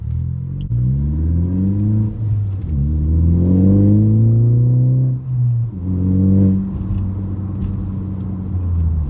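Ford Focus ST fitted with an Injen catback exhaust revving hard, three rising pulls with drops between, loud and close with a deep droning tone and no talk.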